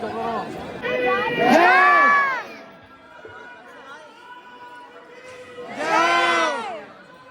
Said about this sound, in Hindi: ये देखिए भीड़ कितनी है